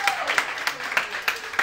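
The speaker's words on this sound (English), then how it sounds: "Quick, clap it up if you've worked customer service." A comedy club audience claps in a quick burst of applause with sharp, irregular hand slaps repeating through the whole moment, fairly close and lively.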